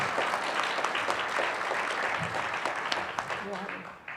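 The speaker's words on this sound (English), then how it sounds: "let's give these students a round of applause" An audience applauds students at a regional science and engineering fair awards ceremony in Northeast Indiana, a dense, steady wash of clapping filling the hall, with voices mixed in beneath it.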